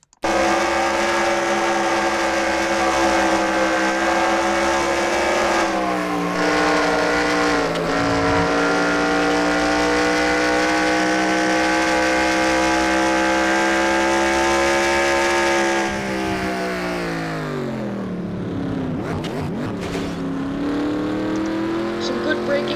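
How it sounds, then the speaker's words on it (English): An onboard view of a race car at the Quarter Slammer event carries a steady, loud engine drone that holds high, then drops in pitch as the car brakes for a turn. The engine runs alone throughout. "let's go on board one last time with Dylan Poteet."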